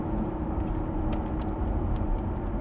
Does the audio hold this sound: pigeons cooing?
no